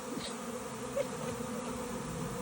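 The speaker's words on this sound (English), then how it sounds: "As you can see, they're gathering in a lovely swarm shape now." A honeybee swarm gathering during hiving, a dense continuous buzzing drone, close and steady throughout with no voices.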